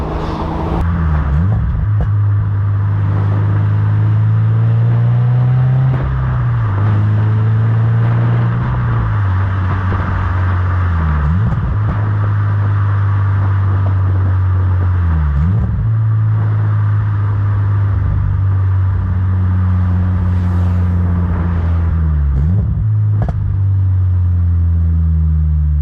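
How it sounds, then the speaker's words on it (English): A Toyota GR86 fitted with an APEXi N1 Evolution Extreme exhaust drones loudly while driving, with several sharp rev blips from downshifts spaced every few seconds and the engine note dropping back to a steady cruise between them. "I'm gonna see if I can try to attempt to get some pops in. So I'll try downshifting here."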